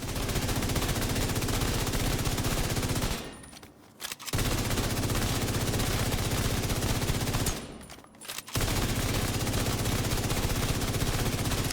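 A FAMAS rifle fires on a firing range in a video game, loud continuous automatic bursts broken by two short pauses, likely reloads, before firing resumes.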